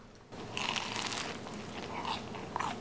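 Crisp, crunchy bites into a fried cronut, a flaky doughnut-croissant pastry, several close crackling crunches with chewing in between, no talking.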